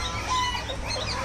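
A chicken at a campsite makes a short, steady clucking sound, close and fairly loud, with outdoor background noise and no talk.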